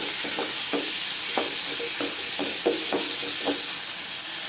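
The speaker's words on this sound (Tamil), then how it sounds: "இப்போ தக்காளி நல்லா வதங்கிடுச்சுங்க" Tomatoes frying with salt in a pan for coriander chutney, a steady loud sizzle and hiss with soft rhythmic scraping of a spoon stirring through it.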